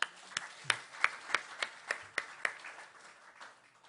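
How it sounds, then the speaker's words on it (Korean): A congregation at a church lecture gives a short round of scattered clapping, roughly a dozen distinct claps in an uneven rhythm that thin out and fade toward the end. "우리 모두 전체를 위해서 박수 부탁드립니다"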